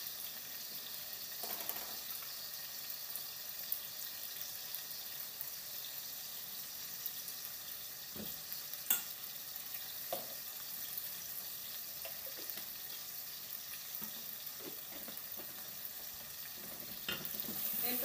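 Spices including sweet paprika and turmeric sizzle in a pan for Spanish lentils as they are stirred, a steady hiss with occasional scrapes and clinks of the spoon, close and fairly quiet, with no talking.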